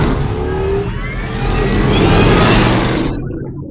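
A car engine revs hard and pulls away, a loud, sustained rising roar that swells then cuts off abruptly near the end.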